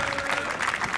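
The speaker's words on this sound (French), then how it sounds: "On peut les applaudir, ces deux équipes, pour ce formidable spectacle" A dense burst of clapping from a crowd at a volleyball final, steady and loud throughout the brief moment.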